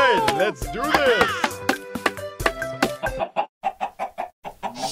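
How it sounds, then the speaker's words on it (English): Chickens in a Minecraft game cluck in a busy run of sharp, repeated game-style calls, followed by a steady rhythmic series of short clucks near the end, loud and close with no talk over them. "Chickens!"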